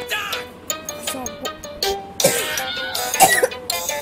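Several harsh coughs and throat-clearing bursts in a Roblox elevator game come in irregular bouts, close by, mixed with other noisy sounds.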